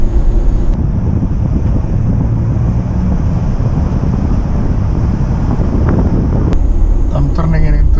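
Toyota Prado fitted with a Lokka auto locker driving on a road at medium throttle through a roundabout, a steady close engine and road drone with heavy wind buffeting throughout.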